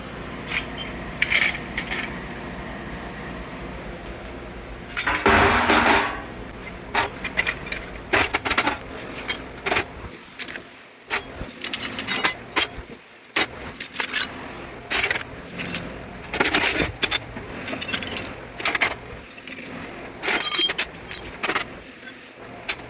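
Scrap aluminum pieces pulled from a large electric panel clatter and jingle as they are dropped onto a scale, loud metallic clinks and rattles in irregular bursts over a low background hum.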